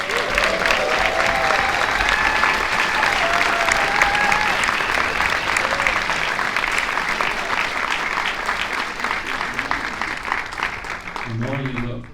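Sustained, loud audience applause welcoming cinematographer Sir Roger Deakins to a Q&A, with some cheering over the steady clapping before it fades near the end.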